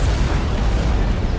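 An antimatter charge detonating aboard a ship in Halo: Combat Evolved Anniversary, a loud sustained rumbling roar that fills the whole moment without a clear start or end, dense and close with no voices.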